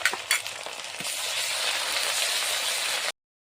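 Ginger-garlic paste added to onions already fried in a pan with a dried red chilli and bay leaf, giving a steady, loud, broad sizzle throughout after a brief clatter at the start, with no talking, then cutting off abruptly.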